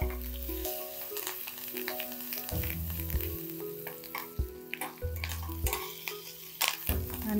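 Green chillies, ginger and curry leaves fry in hot oil with a steady close sizzle throughout; no one speaks, while strong tonal music plays over the frying.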